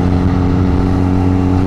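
Exhaust of a Honda Rebel 125 bobber motorcycle, a continuous loud, low burbling drone with steady harmonic pulses, close up and alone.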